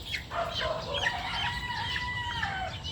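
Young chicks peep and chirp steadily while feeding, a busy cluster of thin high calls layered over soft low clucking nearby, with no talking.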